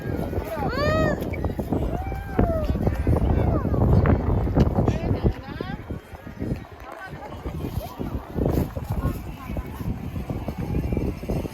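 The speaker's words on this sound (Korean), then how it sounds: "바람이 좀 많이 부네. 산이라서 그런가?" Strong wind gusts across the microphone outdoors on a mountain, a constant loud rumble throughout, with people talking and a voice over it.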